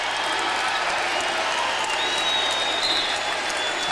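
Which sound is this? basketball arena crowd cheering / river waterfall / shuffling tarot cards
basketball arena crowd cheering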